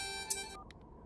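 A mobile phone ringtone sounds in a film scene as a brief, bright electronic melody. It cuts off and is followed by a couple of faint, quick beeps.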